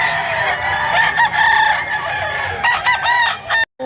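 Bullstag rooster at a cockfight in Tabunok, Cebu, crowing loudly and close in a strained, wavering call, followed by further clucks and a brief cut near the end.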